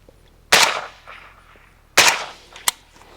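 Two sharp suppressed rifle shots with a Carson suppressor, about one and a half seconds apart, each a loud crack with a short decaying tail, followed by a smaller metallic click.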